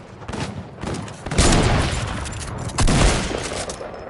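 Loud bursts of gunfire in a shooter video game, including sniper fire, heavy blasts in two main surges with dense crackling between them, close and harsh.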